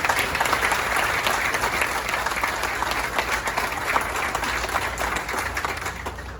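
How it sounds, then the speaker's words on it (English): Audience applause for blood donors at a company's 50th anniversary presentation: steady, moderately close crowd clapping that holds for several seconds and tapers slightly at the end. "Let's give a round of applause for those who give the blood today."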